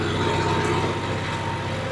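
A diesel farm tractor engine runs steadily nearby, a continuous low, throbbing drone at a constant pace with no voices.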